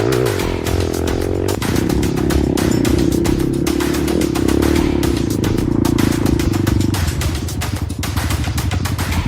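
A motorcycle engine drones loud and close as the rider climbs a hilly road in Aceh Besar, with the pitch stepping up as it accelerates, holding, then dropping into a rougher idle-like rhythm near the end.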